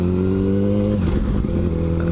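Motorcycle engine revving close by in a steady, loud harmonic drone, its pitch shifting briefly in the middle before settling back.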